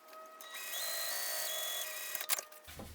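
A sewing machine top stitching an eighth of an inch from a folded canvas edge: a brief, fast motor whir that rises and falls, ending in a few clicks and a soft knock.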